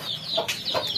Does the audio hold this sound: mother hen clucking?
yes